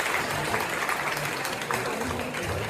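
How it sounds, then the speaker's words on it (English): Guests at a Goan community feast celebration in the UK clap together in welcome, a continuous, fairly faint wash of applause with some murmuring in the room underneath. "Can I have a clap for him?"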